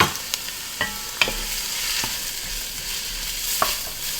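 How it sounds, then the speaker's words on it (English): Onions and celery sizzling in a pot, a steady close crackling hiss broken by a few sharp scrapes and taps of a spoon against the pot, with no talking. "So we got our onions and celery cooking."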